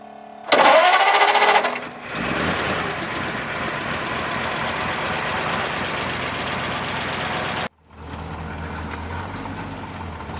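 A 1936 Ford Cabriolet engine turns over with a loud burst, then settles into a steady mid-pitched run for several seconds, cuts briefly, and resumes at a lower, rougher idle on a mountain road.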